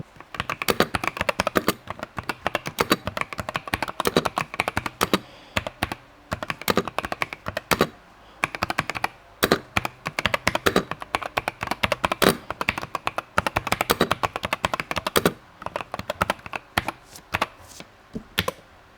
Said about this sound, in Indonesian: Untuk keyboard gue pakai Vortex Series GT8 dengan switch,